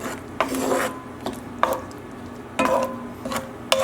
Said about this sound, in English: now we're going to mix everything together